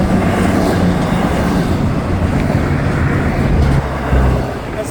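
A freight train hauling big container cars rumbles past close by in a loud, steady roar, with low rolling rail noise and faint clatter throughout.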